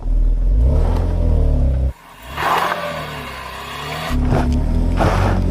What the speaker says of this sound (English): Trying to just control the throttle to keep a nice steady pace up here